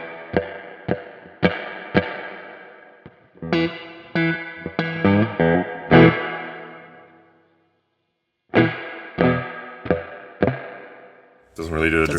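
Electric guitar played through an IK Multimedia X-Space reverb pedal, a smooth ambient reverb rather than a drippy spring, with plucked notes and strummed chords blooming into long washy tails, a short pause, then more phrases.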